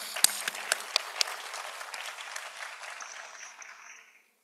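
A workshop audience applauds with dense, steady clapping that swells briefly and then fades out to silence.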